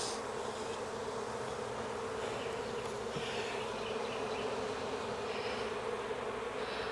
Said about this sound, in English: now that I dropped bees on the ground, where my feet go is risk of squishing the queen